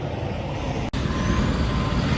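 A tow truck idles close by with a steady heavy diesel rumble, briefly cut by a sharp pneumatic air-brake hiss and release, then rumbling on.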